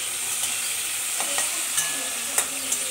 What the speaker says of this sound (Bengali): আমি আলু পটল ভাজা তেলটাতেই দিয়ে দিলাম